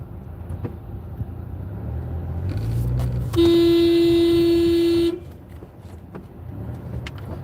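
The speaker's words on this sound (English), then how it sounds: "I honked so the person in front of me would see it" A single steady car horn blast sounds for nearly two seconds over the low rumble of traffic and a running engine.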